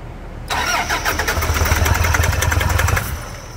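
Toyota Hilux 2014 pickup engine cranking in a starting attempt with a burned module and shorted injector wiring: a sharp onset into about two and a half seconds of rapid rhythmic churning whir, then it cuts off without catching.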